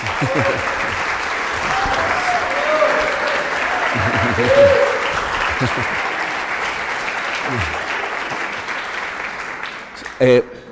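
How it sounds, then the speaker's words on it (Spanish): A crowd applauds steadily for several seconds, a dense wash of clapping that fades slightly, with a brief louder burst near the end. "Un aplauso para ellos, por favor."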